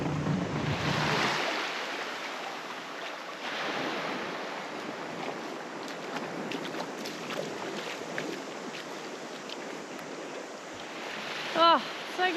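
Surf washes onto an island beach as the tide comes in, a steady broadband rush under wind buffeting the microphone. There are brief small knocks near the end.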